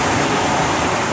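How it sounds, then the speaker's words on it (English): Big ocean waves building behind a sailboat on the passage from the Azores to Ireland give a dense, steady wash of rushing water, loud and continuous with no voices. "a couple big waves starting to come up behind me"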